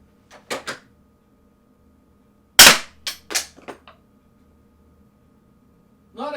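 A RAP4 RAM combat pistol fires at a target: a few sharp pops early, then a louder cluster of three or four quick shots mid-clip, with a short noise at the very end.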